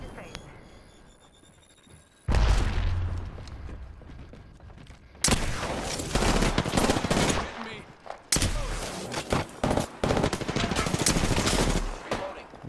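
Bursts of automatic gunfire and rapid shots in a video game shootout, loud and dense with sustained volleys and short pauses, while players talk over the action.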